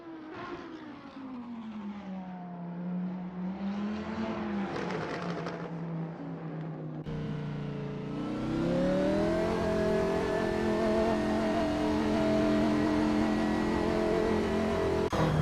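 A Lamborghini Huracan GT3 race car at Spa in Assetto Corsa, its engine droning steadily, then climbing loudly through the revs as it accelerates, close and continuous with shifting pitch.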